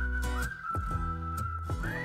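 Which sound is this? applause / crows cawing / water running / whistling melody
whistling melody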